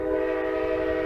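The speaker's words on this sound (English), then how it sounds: "horn blowing again here." An Amtrak train horn sounds as the train arrives, a loud, steady chord held close by for the whole moment with no talk over it.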